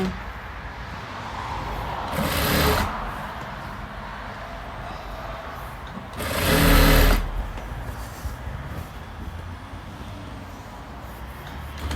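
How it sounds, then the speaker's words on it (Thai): Sewing machine running two short bursts of stitching while sewing a Karen-style shirt, with quiet pauses between them and steady low background hum. "ก็เย็บอันนี้ต่อเลยนะคะ เย็บย้ำนิดนึง"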